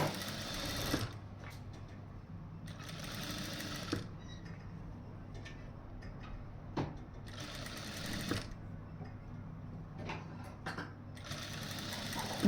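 A sewing machine stitches a curved piping seam on fabric in several bursts of rapid mechanical whirring, broken by pauses with small clicks and handling sounds, close and clear.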